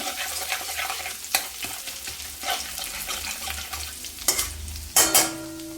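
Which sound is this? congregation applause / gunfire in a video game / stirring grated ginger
stirring grated ginger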